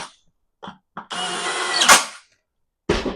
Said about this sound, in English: Like I said, I got the drill. That makes work go a little quicker.